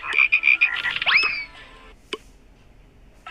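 Frogs croak in a rapid, loud run of chirping calls, then a sharp twangy call and a few scattered croaks over a quiet background.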